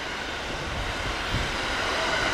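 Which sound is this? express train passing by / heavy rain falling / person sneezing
express train passing by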